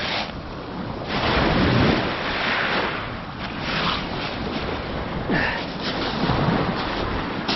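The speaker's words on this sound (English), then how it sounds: "Windy, got to be 20-mile-an-hour winds" Strong winter wind of around 20 miles per hour roars across the Lake Superior shore, buffeting the microphone in loud, surging gusts over the wash of surf, with no voices.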